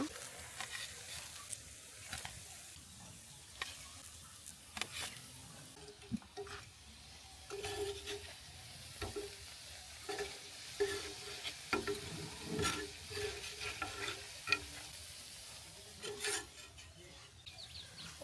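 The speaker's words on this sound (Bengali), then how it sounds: "চপটা ভাজা হয়ে গেছে, দেখতে পাচ্ছেন চপের ভিতরে একটা হালকা ব্রাউন কালার চলে এসেছে।" Noodle chops deep-frying in hot oil, a steady low crackle broken by frequent clicks and spatula scrapes across the whole stretch, close up with no talking.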